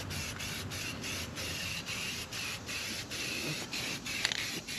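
Black spray paint hisses from a can onto John Deere 643 corn head parts in a series of short, regular bursts, close and fairly quiet, with brief pauses between passes.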